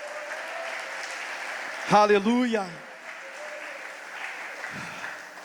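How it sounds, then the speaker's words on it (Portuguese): A church congregation claps in a continuous wash of applause while a preacher calls out briefly over it. "Dê um aplauso a Jesus, irmãos."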